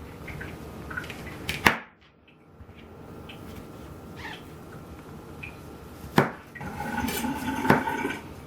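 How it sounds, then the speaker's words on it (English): A knife slices through a portobello mushroom on a cutting board, giving a few sharp, close cuts spaced apart amid quiet handling noise, with no talking. "Now I'm going to slice up this portobello."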